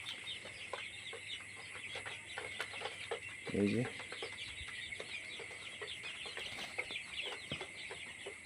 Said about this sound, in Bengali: 30 দিন বয়সে টাইগার মুরগির বাচ্চা।